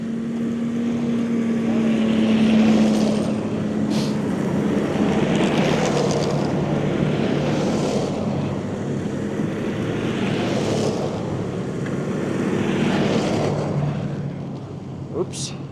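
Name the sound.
snowmobiles heading into Yellowstone park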